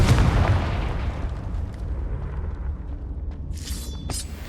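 A Confringo spell blast in Hogwarts Legacy: a loud booming explosion at the start that rumbles and fades over several seconds, followed by a couple of brief bright magical shimmers near the end, no voices.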